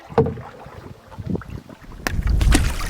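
Wind gusts across a lake during a boat trip around Tangier Grand Lake, with low rumbling buffets against the microphone that swell louder toward the end, alongside faint water and boat noises.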